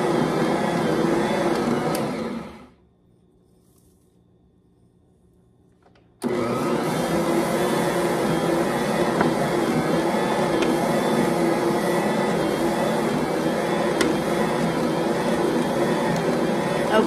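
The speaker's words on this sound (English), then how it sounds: "I'm going to turn on the mixer and let that mix in" A stand mixer churns bread dough with instant yeast, a steady loud motor whir that cuts out briefly near the start, then resumes and runs evenly to the end with no talk.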